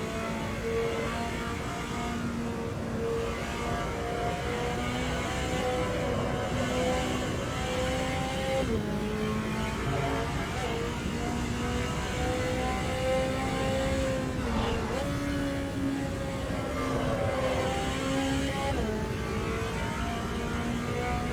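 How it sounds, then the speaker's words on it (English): GT4 race car in Automobilista 2 at Road America, with a continuous engine drone whose pitch rises and falls through shifts and corners, plus steady tire and road rumble beneath. "I've set it up so when I go through the turns, you can hear my tires, and so you can hear the road noise as well."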